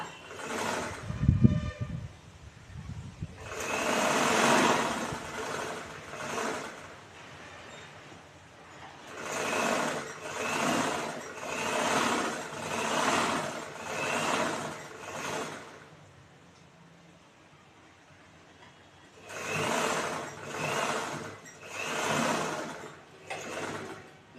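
A sewing machine stitches a blouse piece in repeated bursts of steady whirring, each a few seconds long with short pauses between, close and fairly loud.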